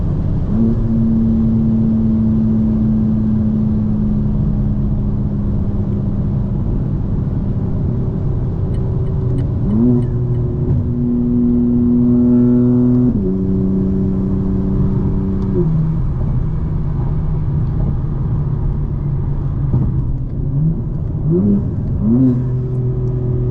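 A modified 2024 BMW M4 Competition engine hums steadily and loudly from inside the cabin. It rises through the gears with repeated shifts and surges of revving, and nobody speaks.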